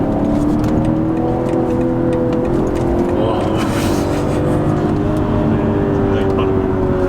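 BMW 540i xDrive LCI with its straight-six engine accelerating, a strong steady engine drone with rising tones, heard close and loud for the whole stretch under ongoing talk.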